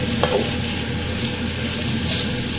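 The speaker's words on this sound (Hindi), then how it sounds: "उसके लिए मैंने ऑयल को थोड़ा गर्म कर लिया है और इसके अंदर मैं प्याज शामिल कर रही हूँ।" Four medium onions go into moderately heated oil and fry with a dense, steady sizzle that stays loud and close throughout, with no voices.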